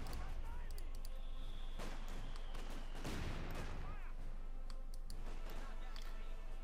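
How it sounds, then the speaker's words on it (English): In the Company of Heroes 2 video game, mortar rounds and gunfire crackle through a battle as distant thumps and sharp rattling shots, with a whistling sweep in the middle, all at a low level under a constant background hum. "Mortar fire flying towards the north there."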